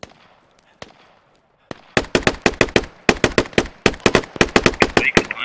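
Gunfire in the Squad video game, shots fired inside a main bay near a radio tower: a faint thud or two, then a loud rapid string of close sharp bursts and single shots with little gap between them.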